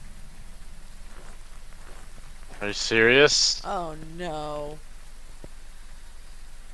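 Steady rain falls in the Phasmophobia video game, a constant soft hiss on surfaces throughout while someone speaks briefly in the middle.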